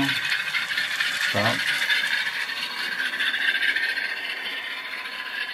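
An NS GE C39-8 model locomotive from ScaleTrains runs in reverse, giving a continuous mechanical whir and rattle with a brief spoken word partway through.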